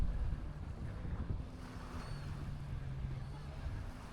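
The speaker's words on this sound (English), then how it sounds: "it's a windy day" Steady wind roars and buffets the microphone on a beach in Playa del Carmen, a low rumbling gust noise with no talking, constant throughout.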